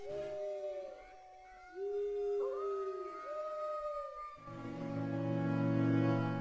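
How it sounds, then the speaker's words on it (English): Wolves howl in long rising and falling calls, several overlapping, set over eerie music with owls and night birds in the dark Royal Valley of The Minish Cap; deep sustained strings swell in near the end. "Howling wolves, hooting owls, and nightbirds give rise to slow, deep crescendoing strings."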